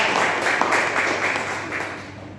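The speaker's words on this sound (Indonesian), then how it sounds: "Yuk tepuk tangan dulu buat Mas Rian." Classroom applause for a student called up to review the lesson, a short burst of many hands clapping together at moderate loudness that fades slightly toward the end.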